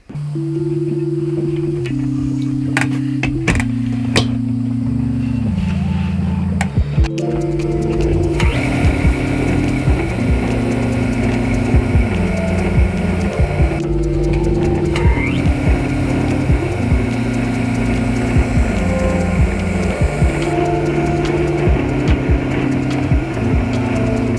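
A small motor with fresh gear oil runs continuously in a workshop, humming loudly through repeated stepped changes in pitch. Broadband rattling and clatter layer over the hum, with a few sharp knocks near the start.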